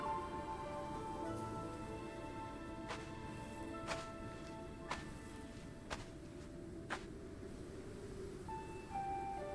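Steady rain falls on a mountain path, a soft continuous patter with scattered louder drips, while a sustained musical tone plays over it.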